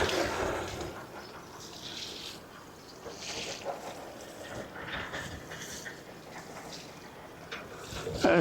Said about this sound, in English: It's such a windy day today.